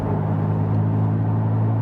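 Inside the cabin of a Porsche GT4 with the exhaust valves open, a steady, deep engine and exhaust drone hums without a break while the car cruises.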